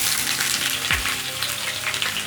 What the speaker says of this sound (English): To my pan, I'm going to add my onions.